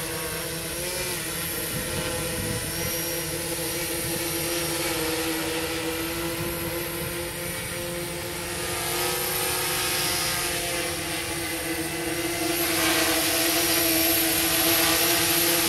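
A SuperX RC plane's electric motor throttled up for takeoff gives a steady, loud whine with a constant hum that holds across the whole stretch, rising slightly in level toward the end.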